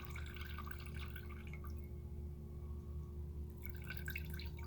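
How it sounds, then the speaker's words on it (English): Water drips from a squeezed sponge into a tub, a faint, soft trickle that is steady and close under a constant low background hum. "a little bit of water is dripping out. Drip, drip, drip, drip, drip, drip. It's falling into the tub."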